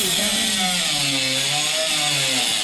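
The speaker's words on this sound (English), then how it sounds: "I think you need a better grinder." An angle grinder whines loudly and continuously at close range during work on radius rods for an off-road vehicle, its pitch wavering slightly as it bites into the metal.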